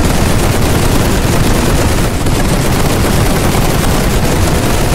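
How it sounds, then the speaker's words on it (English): Sustained, dense gunfire from machine guns in The Great War 6.0, a World War I battle game on a Russian steppe, with continuous loud bursts filling the whole stretch and no pause. "Machine guns opening fire."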